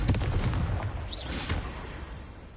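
A Confringo fire spell blasts in Hogwarts Legacy, a dense booming burst with crackling, followed by a rumbling wash that fades slowly, fairly loud, with no speech.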